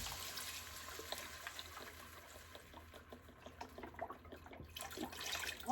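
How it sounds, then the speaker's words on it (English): Reduced sodium chicken broth pours into a cooking pot, a faint continuous trickle and splash that swells louder toward the end, no talking. "but I'm going to add chicken broth now."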